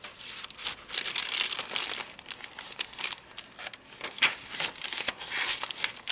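Glassine bag and tracing paper handled while assembling a handmade prayer journal, giving close, bright crinkling and rustling in irregular bursts, with no talk.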